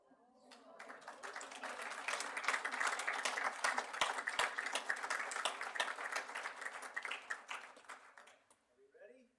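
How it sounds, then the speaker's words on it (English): Applause for newlyweds breaks out at a city council meeting, building to a moderate patter of clapping that fades out toward the end, with voices and a low room hum underneath. "If you're in the room for another round of applause, we have newlyweds in front of us this evening."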